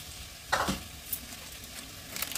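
Turmeric, coriander, cumin and chilli powders frying in a pan, with a soft sizzle beneath a few sharp scraping stirs, one strong scrape near the start and lighter ones after.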